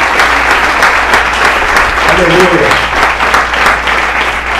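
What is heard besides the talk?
church congregation applauding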